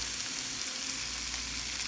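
Chicken frying in a pan, giving a steady, even sizzle at moderate level with no distinct flip or other event standing out, no talking.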